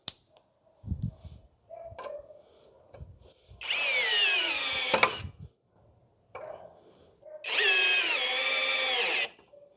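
A Hanabi 16V cordless screwdriver drives a screw into wood in two whining bursts of a few seconds each, the motor pitch sagging under load, with light handling knocks and clicks in the gaps.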